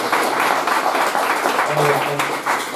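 Applause from a conference audience at a lecture on British Hispanists sounds full and sustained throughout, with a faint voice murmuring underneath partway through.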